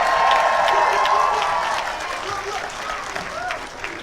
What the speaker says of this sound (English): Can you shout and clap for yourself loud?